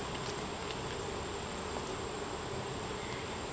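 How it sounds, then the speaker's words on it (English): Honey bee nurse worker buzzing close by during a beehive inspection, a steady insect drone over a constant hum of the surrounding colony, with no talking. "I got a little bee here. She's a little nurse bee."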